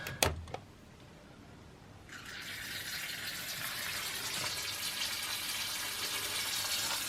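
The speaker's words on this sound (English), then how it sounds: "Here comes the water." After a few sharp knocks, water from a pumped borehole suddenly rushes out of a hose as a valve opens, in a loud, steady gush that continues strongly to the end.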